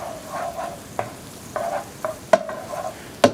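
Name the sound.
stirring onions in electric fry pan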